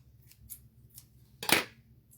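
Scissors trim off the excess edge of a chalk transfer stencil. A few faint snips are followed by one louder, sharper cut, all close and quiet with no voice.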